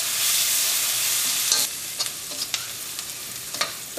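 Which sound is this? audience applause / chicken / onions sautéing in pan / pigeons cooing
onions sautéing in pan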